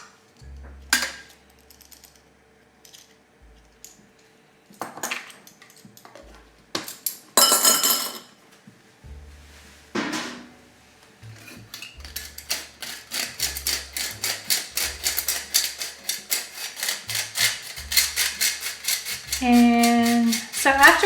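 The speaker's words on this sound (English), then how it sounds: "I'm just gonna sift it together into the bowl." Flour, salt and baking powder shaken through a metal sifter into a bowl for blueberry muffins, heard as scattered clinks and taps that build into a steady rapid rattling scrape, close and fairly loud, with faint talk at times.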